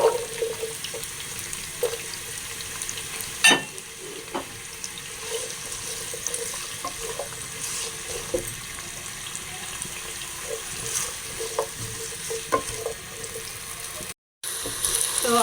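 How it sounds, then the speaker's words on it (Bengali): Potatoes frying lightly in a pan for a restaurant-style chicken dish give a steady, close sizzling hiss with scattered pops and a few clatters of stirring. "এখন আমি যেটা দিব সেটা হচ্ছে এই আলুগুলোকে একটু হালকা করে ভেজে দিব"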